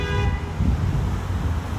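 A car horn toots at a city intersection in Toronto's West End during rush hour, a short honk near the start over steady, loud traffic rumble.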